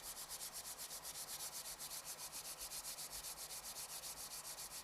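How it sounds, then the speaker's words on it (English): Hands rub briskly together in a steady, fast back-and-forth rhythm during a quiet meditation session, faint and close with no talking. "when rubbing your hands together"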